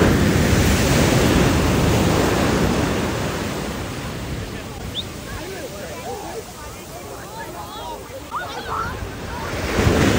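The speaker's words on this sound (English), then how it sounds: "These have to be like the most massive waves I've seen." Massive ocean waves crash and roar close by, a loud, broad rush of surf buffeted by wind noise that eases mid-clip and swells again, with excited voices shouting over it.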